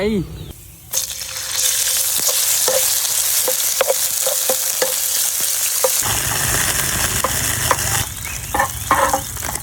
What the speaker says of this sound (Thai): น้ำมัน ใส่กระเทียม ใส่หมูลงไป